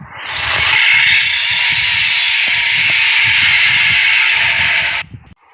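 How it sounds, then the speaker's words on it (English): A loud, steady roaring rush with a hissing, whooshing edge builds and holds for about five seconds before cutting off abruptly, like a turbocharged car accelerating hard. "And when you accelerate this car to get those stats"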